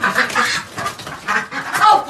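A frightened duck quacks in loud, repeated bursts, about four or five harsh calls in two seconds, heard close while being caught on a farm.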